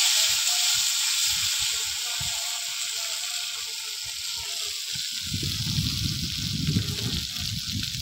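Tamarind water goes into a hot pan for a fish tok, and a steady hiss of frying swells into a louder, bubbling sizzle partway through.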